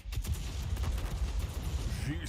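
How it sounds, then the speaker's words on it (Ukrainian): Rapid bursts of automatic cannon fire from tanks in the World of Tanks video game, a dense, continuous volley of shots at steady loudness with no pauses. "Зустрічайте танки з автоматичними гарматами в новій події шквальний вогонь."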